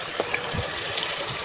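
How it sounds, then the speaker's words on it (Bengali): A small amount of water splashes into a pan of cooking fish and vegetables in a short, gushing burst with a faint bubbling tail. "এখন পানি দিয়ে দিব"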